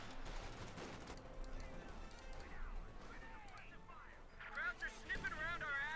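MG34 and .50 caliber machine guns rattle back and forth in a Company of Heroes 2 battle, sustained bursts under busy game noise and a caster's rapid commentary.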